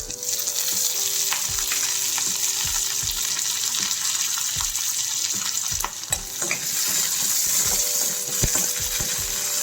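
A tempering of urad dal, cumin, dry red chillies and curry leaves frying in hot oil, a steady close sizzle broken by repeated spoon scrapes and stirring knocks in the pan.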